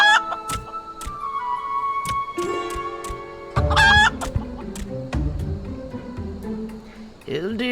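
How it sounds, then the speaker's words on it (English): Chickens cluck and a rooster crows in Final Fantasy XIV, with sharp repeated calls and a harmonic crow rising partway through, layered over game music and ambient effects. "It is the chicken!"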